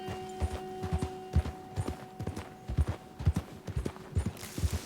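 A horse in a video game walks along with steady, evenly spaced hoof clip-clops, moderately close over a faint background hum.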